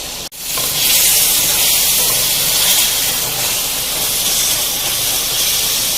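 Green masala for chicken hariyali curry roasting in oil as the oil separates: a loud, close, continuous sizzling hiss that starts after a brief pause and holds evenly throughout.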